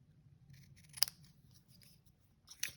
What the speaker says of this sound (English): I'm just going to cut at an angle there